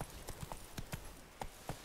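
Quick, faint hoofbeats of a horse in The Witcher 3: Blood and Wine thud in an uneven galloping rhythm, several strikes over a short stretch, with no voices.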